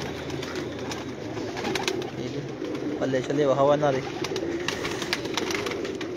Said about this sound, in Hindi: देखो माशाला कबूतर